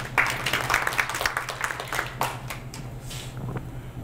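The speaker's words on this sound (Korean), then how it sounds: "큰 박수 부탁드리겠습니다." An audience at a startup forum claps together in a burst of applause that fades out after a few seconds.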